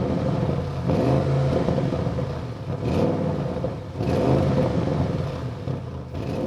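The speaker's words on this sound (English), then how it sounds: "First of all, I will start up the car, then accelerate a little bit with the normal mode" Audi RS6 Avant in normal mode starting up and being revved lightly, a moderate engine rumble rising in several short swells and falling back to idle, heard alone without talk.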